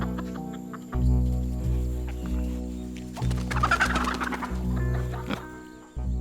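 Hens in a henhouse cluck and squawk in agitated bursts, with a steady low hum behind them and a flurry of louder cackling toward the middle, close and unaccompanied by voices.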